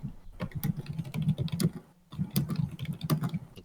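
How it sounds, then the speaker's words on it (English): Furious typing on a computer keyboard, rapid close keystrokes in two dense bursts split by a brief pause, with no speech over them. "It's Loth typing furiously"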